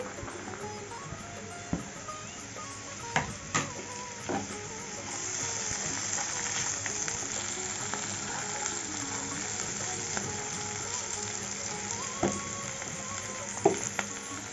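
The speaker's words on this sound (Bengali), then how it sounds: "আলু গাজর আর বিনটা ভাজা হয়ে গেছে" Steady sizzle of potato, carrot and beans frying in a pan, with occasional clinks and scrapes of stirring, close and fairly quiet.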